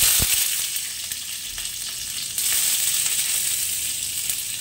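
Steady, bright sizzling of green chillies frying in a hot wok, continuous hiss with a few sharp pops and a brief surge partway through.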